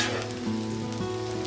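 Green chilies and curry leaves sizzling in hot oil for a chicken dum biryani, a steady close crackle and hiss without any talk.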